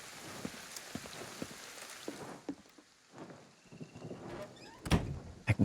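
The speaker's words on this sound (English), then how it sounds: "Like out here, you know, it's raining." Rain in the video game Ghostwire: Tokyo falls as scattered patters and drips on surfaces, with a few sharper knocks and splashes growing busier near the end, fairly faint overall with no talk.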